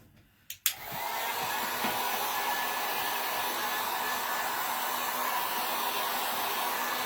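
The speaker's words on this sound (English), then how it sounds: "we're going to take our dryer and we're going to dry this." A hair dryer clicks on after a brief quiet moment and blows steadily at close range, a constant loud airy whir with no talking.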